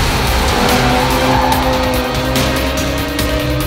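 A BMW M340i is pushed through hard cornering and slid sideways. Its engine drones loud and steady throughout, with a sustained tire squeal riding over it.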